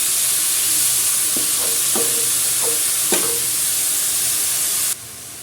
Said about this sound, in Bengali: শাকগুলো দিয়ে দিলাম।